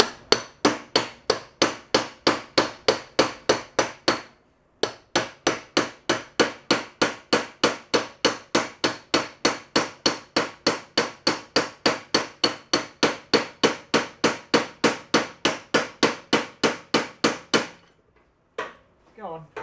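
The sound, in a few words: hammer tapping snowblower wheel axle, Ariens snowblower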